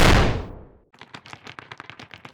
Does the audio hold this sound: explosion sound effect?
yes